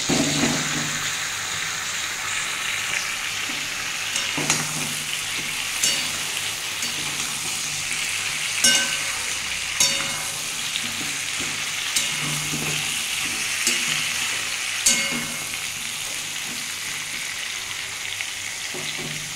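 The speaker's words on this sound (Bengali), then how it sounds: "আমি এই মুহূর্তে এবার একটু ঝিঙেগুলো দিয়ে একটু ভেজে নেব" Ridge gourd frying in a pan with potatoes and softened tomato, a constant loud sizzle punctuated by periodic stirring clacks of a spatula against the pan.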